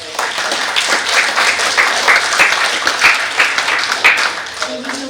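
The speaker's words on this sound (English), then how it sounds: "give a round of applause for all the" Audience applause at a World Tourism Day event, moderately loud clapping from a crowd with some voices murmuring underneath, easing off toward the end.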